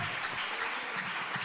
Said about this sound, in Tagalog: Palakpakan natin ng malakas na palakpak.